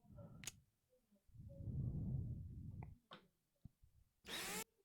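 Power tool in the game Perseverance DLC in Rover undoing bolts on the Perseverance rover: a few short whirring bursts, one longer drill run in the middle, and a bright rasping burst near the end, fairly close with quiet gaps.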